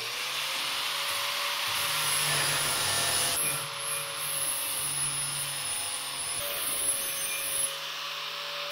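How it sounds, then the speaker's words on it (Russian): A power tool with a grinding disc sands a handmade tool for plaster restoration with steady, continuous whirring and rubbing that lasts about nine seconds at an even, moderate level, close by. "И сейчас пошлифуем."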